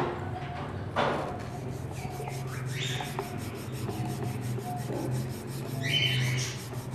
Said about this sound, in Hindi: ये देखें व्यूअर्स आप देख रहे हैं मैं घिस रहा हूँ इसको